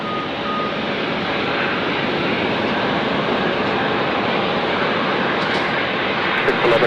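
Boeing C-17A military transport of the Mississippi Air National Guard landing at Phoenix airport, a loud, steady broadband jet engine roar that holds constant throughout without pause.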